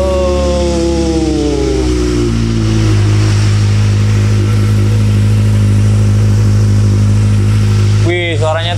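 A Kawasaki ZX25R motorcycle fitted with an Akrapovic exhaust revs up close and loud, its engine note climbing and then holding a deep, steady drone, with a sharp blip of throttle near the end.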